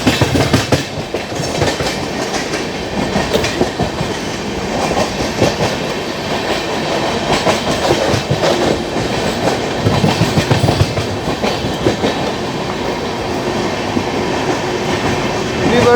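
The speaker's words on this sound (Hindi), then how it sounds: "और यहाँ पे किसी ट्रेन के साथ पैरेलल हो रहा है।" The 12612 Garib Rath Express between Hazrat Nizamuddin and Chennai runs on the rails with loud, continuous rumbling and rhythmic clickety-clack from the wheels, running alongside another train, heard close up throughout with no talking.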